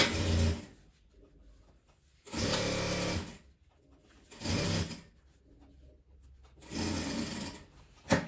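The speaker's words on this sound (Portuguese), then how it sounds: "Eu vou virar e rebater essa costura." A sewing machine topstitches a seam on a denim apron made from old jeans, running in loud close bursts of rapid needle chatter separated by quiet pauses.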